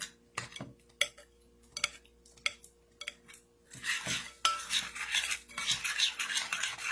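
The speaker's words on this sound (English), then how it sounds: "Sorry about the tapping, guys. Trying to get it all mixed in." A metal spoon clinks and scrapes against a bowl while butter and milk are stirred together, with irregular sharp taps at first, then a denser stretch of rubbing and scraping, all close and without speech.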